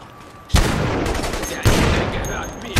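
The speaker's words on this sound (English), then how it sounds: "Bolt action rifle. I'm pretty sure it's just the Kar 98 in the game." Kar 98 bolt-action rifle fired in The Saboteur video game: three loud, sharp gunshots spaced about a second apart, each with a ringing tail.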